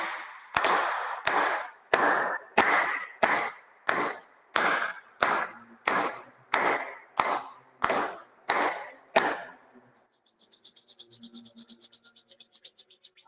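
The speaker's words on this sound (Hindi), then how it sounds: "चलिए ताली बजा लेते हैं।" A yoga group claps hands in a steady, even rhythm, about a dozen loud, crisp claps at regular intervals, followed by a fainter, rapid rattling patter at the end.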